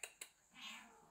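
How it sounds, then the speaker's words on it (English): A cat gives a faint, distant meow after two soft clicks, the drawn-out call rising and fading over about half a second in a quiet room. "Now where's that cat?"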